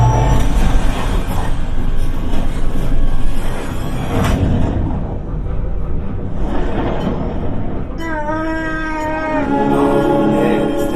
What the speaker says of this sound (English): Left pilot, make the jump to light speed.